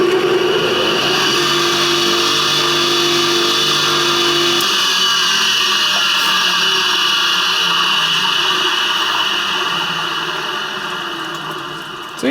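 A restored Selecta 7-inch bench grinder motor, running backwards on a makeshift capacitor, spins with a loud, steady electric whine and hum that shifts pitch once partway through, then slowly fades as it winds down near the end, with no talking.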